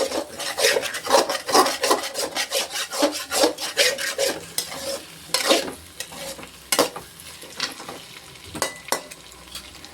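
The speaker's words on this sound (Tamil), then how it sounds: "ரொம்ப தூள் ஆகாமல் கிண்டிக்கிறோம்" Egg being stirred and broken up in a pan for Tamil-style egg pasta, a busy run of scraping, rasping spatula strokes with light sizzling, close and without talk.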